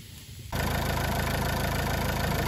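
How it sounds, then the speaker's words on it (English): A Renault 1.5 dCi K9K diesel engine catches after a quiet moment and settles straight into a steady, loud idle with an even low clatter, fresh from an injector seal replacement. "we're going to start the engine up now and just make sure that it's sealed"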